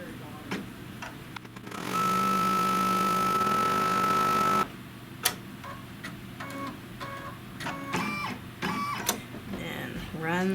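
A sewing machine hums steadily for a couple of seconds while sewing a seam on a small quilted mug rug, followed by quieter handling clicks and taps as someone talks nearby.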